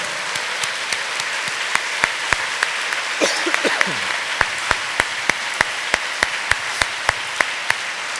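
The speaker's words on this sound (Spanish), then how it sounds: "dele fuerte el aplauso al Señor" Congregation applause at a Spanish-language Bible sermon, steady crowd clapping throughout with sharp regular individual claps standing out, a brief voice or cry briefly heard partway through.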